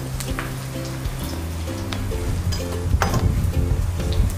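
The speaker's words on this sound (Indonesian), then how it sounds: "Ini sekarang kita goreng ya bawang gorengnya" Garlic frying in hot oil while fried garlic is prepared for gado-gado, a steady crackling sizzle with scattered pops, close and continuous throughout, with a low tonal hum running underneath.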